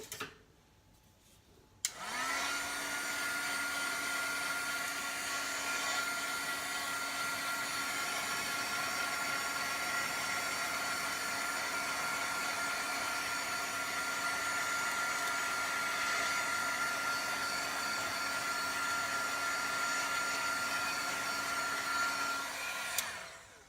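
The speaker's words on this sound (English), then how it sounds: "I'm going to hit the heat tool again." A heat tool used for Bible journaling switches on and blows with a steady, loud whirring hiss that runs unbroken for about twenty seconds before cutting off.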